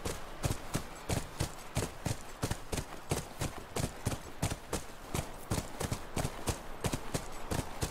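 Video game hoofbeats of a horse clip-clop at a brisk trot, close and evenly paced throughout, with no voices, in The Last of Us.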